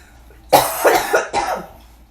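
A person coughs three or four times in a quick, raspy burst, close by, with a quiet room behind.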